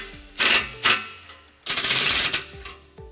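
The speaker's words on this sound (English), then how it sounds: "we're going to retighten that clamp using our 15mm socket" A 15mm socket wrench ratchets to retighten an exhaust clamp during a trailer hitch install on a 2011 Nissan Altima, giving short bursts of clicking with pauses between them.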